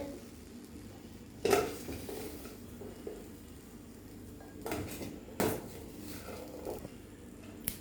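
Boiled corn for sweet butter corn is scooped out of a pot, with a few sharp metal clanks and scrapes of a ladle against the pot amid quiet kitchen background, no speech.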